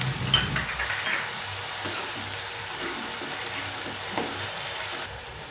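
Tomato, ginger and garlic paste sizzling in a pan while being sautéed, a steady soft frying hiss throughout with faint stirring scrapes, close and even, no voices.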